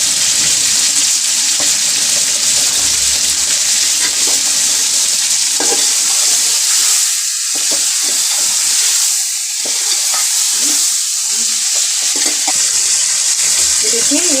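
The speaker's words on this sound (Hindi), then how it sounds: "ये देखिए 1 से 2 मिनट भूनिए हमने चिकन को।" Chicken pieces fry in a pot for biryani, a loud, continuous sizzle and crackle close by, with stirring scrapes breaking through now and then.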